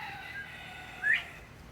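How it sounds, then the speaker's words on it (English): A snowflake quail gives one short, faint chirp in a quiet wooded setting, with soft background hiss before and after. "Hear my snowflake quail chirping."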